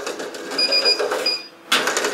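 A handheld circuit breaker finder beeps beside a home electrical panel: a few short, fairly faint high tones over a steady background hiss, then a brief pause before a louder burst of noise.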